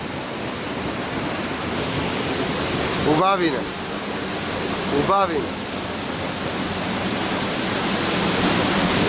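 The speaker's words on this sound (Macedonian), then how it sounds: "Слушнете го звукот, моките на водата." Constant roaring rush of a 70-metre waterfall at Voden, Macedonia fills the scene, with a person briefly speaking twice over the steady noise.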